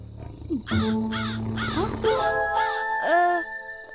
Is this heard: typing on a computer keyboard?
no